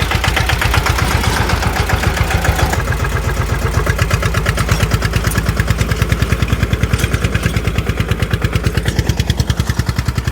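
A sanedo farm vehicle with a 10 HP engine idles and chugs steadily nearby, a loud, even rapid thumping that runs unbroken throughout with no talk over it.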